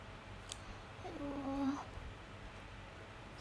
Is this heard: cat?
yes